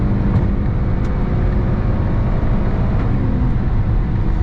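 An American muscle car's engine drones loudly and steadily while driving, a dense, close low rumble with faint road and wind noise that holds an even level throughout, no voices.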